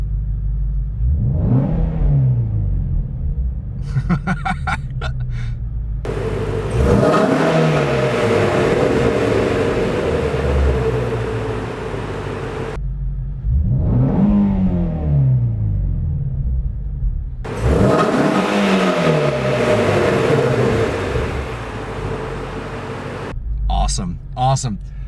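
A 2019 Ford Mustang Shelby GT350 revs repeatedly up close, each blip rising to a loud snarl then falling back to a throbbing idle, several cycles in a row.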